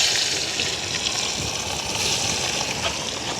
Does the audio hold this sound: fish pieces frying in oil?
yes